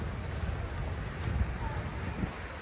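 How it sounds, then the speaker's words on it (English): Steady wind buffets the open air on a blustery morning, a constant low rumble with gusts swelling and easing throughout, loud and close to the microphone, with no clear voices on top. "It's very windy this morning."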